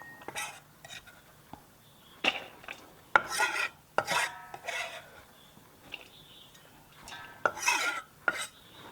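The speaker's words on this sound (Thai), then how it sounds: "ผักที่ซอยได้ใส่ลงไปในชามอ่างผสมเลยค่ะ" Sliced vegetables for Thai sai ua sausage filling are tossed and mixed in a large bowl, giving intermittent scraping, rustling bursts with quiet pauses between them and no talking.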